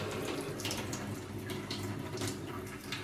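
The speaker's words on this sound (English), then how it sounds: "And then I use the hot water" Hot water running from a kitchen tap, a steady close splashing hiss that holds constant for a few seconds, with no talk over it.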